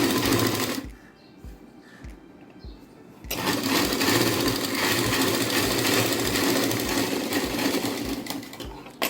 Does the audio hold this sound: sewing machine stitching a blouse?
yes